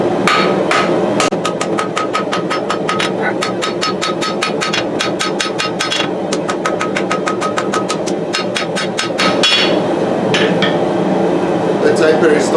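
A hammer forges a knife blade over a gas forge, striking in fast loud rhythmic bursts of ringing metal blows with short pauses, over a constant roaring burner hum.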